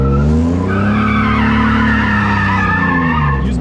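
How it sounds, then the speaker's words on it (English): A B18-powered Honda CRX does donuts, its tires squealing and skidding loudly and continuously under a steady revving engine, close and sustained throughout. "You know how to do donuts, so just be comfortable and like, obviously put yourself in the center."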